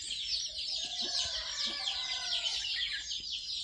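A native country hen on a small farm gives soft clucks amid other chickens' chatter in a busy coop, steady background bird noise throughout with a few low, close clucks and no talking.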